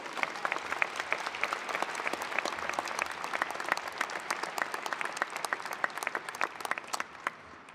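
A large audience claps steadily at a university graduation ceremony, dense and sustained for several seconds before tapering off near the end.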